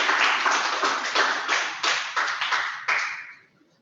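Several people clap in a small meeting room during a youth involvement information session, a short burst of separate claps that rises, pulses unevenly and fades out after a few seconds.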